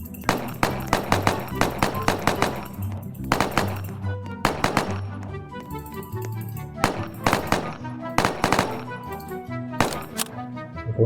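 Rapid bursts of gunfire in the Roblox video game, sharp repeated shots in quick volleys with short pauses, loud and close throughout.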